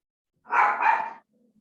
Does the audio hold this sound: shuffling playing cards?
no